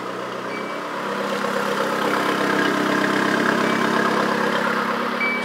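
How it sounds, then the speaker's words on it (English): Nissan D21 pickup truck engine idling steadily after an ignition timing fix, a close, continuous mid-pitched running hum with no talk over it. "the truck starts right up and runs good."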